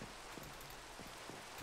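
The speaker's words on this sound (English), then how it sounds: "it's raining now." Steady rainfall in the video game Minecraft, a dense, even hiss of falling drops with faint patters, continuous and fairly soft with no talking.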